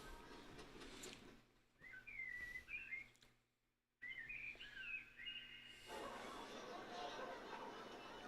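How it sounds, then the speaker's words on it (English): Whistling bird chirps in the intro of a fighting game, short warbling calls repeating across the stretch over music and background sound, with a brief near-silent gap in the middle. "Oh, it's a bird."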